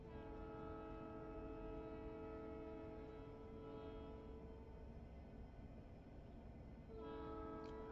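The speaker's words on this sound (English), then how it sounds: "I have a train coming by again." A train rumbles past continuously at a steady level, its horn sounding in sustained tones at the start and again near the end, with no speech over it.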